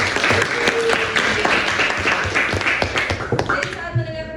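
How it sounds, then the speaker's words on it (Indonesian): An audience of students in a classroom applauds the presentation groups, a steady patter of many hands clapping throughout before it thins out at the end. "Berikan aplaus untuk semua."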